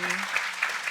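Brief, fairly quiet applause from a start-up conference audience welcoming a speaker, with soft clapping mingled with a faint murmuring voice.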